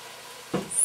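Chicken pieces in a frying pan give a short burst of sizzling that swells suddenly midway and hisses on until the end.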